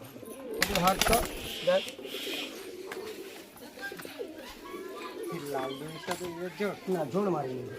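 Pigeons coo repeatedly in a loft of high-flyer pigeons, soft rolling calls mixed with a few wing flutters, while people talk close by throughout.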